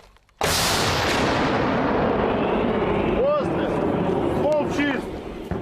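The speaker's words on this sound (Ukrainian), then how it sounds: "Був постріл, був постріл." A sudden loud artillery blast booms out on a battlefield in eastern Ukraine, followed by a long rumbling roar that slowly fades, with faint engine or whistling tones underneath.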